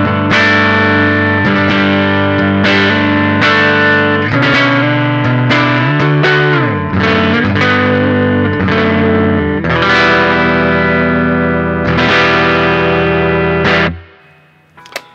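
Puresalem La Bruja electric guitar played through its neck pickup with a distorted, effected tone, strummed chords ringing in a loud sequence before cutting off near the end.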